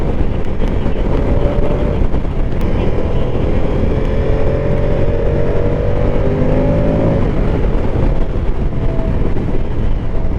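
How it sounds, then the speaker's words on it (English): A 2024 Moto Guzzi Stelvio motorcycle's exhaust note hums under heavy road and wind rush, its tone rising steadily through a throttle pull in the middle before easing off. "this bike makes a good little exhaust note"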